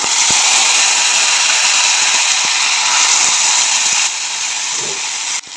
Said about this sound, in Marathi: तेल गरम झालेलं आहे, टोमॅटोची प्युरी टाकून घेऊ।